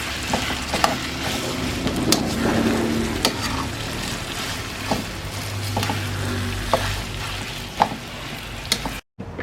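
Garlic, onion, tomato and buro, a fermented rice, sautéing in a pan, a steady close sizzle broken by sharp scraping stirs and clinks, with no talking.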